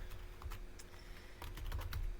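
Rapid, irregular keystrokes on a computer keyboard while entering meeting agenda items, close and fairly steady, clusters of clicks building slightly louder toward the end with no voices.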